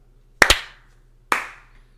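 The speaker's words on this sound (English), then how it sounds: "we got to do a clap sync" Three sharp hand claps made close by for audio-video sync: two in quick succession, then a third about a second later, each with a crisp attack and a short room ring-out in a quiet space.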